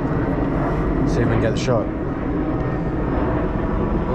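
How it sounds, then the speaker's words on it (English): A plane passing overhead, a steady broadband engine roar filling the background throughout, with people talking over it nearby. "if that plane was quiet, it would be a really big help"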